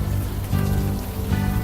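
Steady rain pattering on a surface in the Unavowed point-and-click adventure game, a continuous close wash of drops with low rumbling underneath, no voices.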